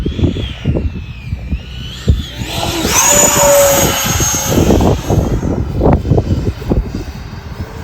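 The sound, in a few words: Freewing Hornet RC model jet flying, engine throttled up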